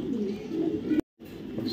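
A female racing pigeon coos close by in a low, steady murmur that breaks off abruptly for a moment, then resumes with a faint higher chirp near the end.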